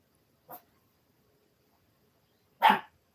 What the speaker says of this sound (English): Now Sissy's barking.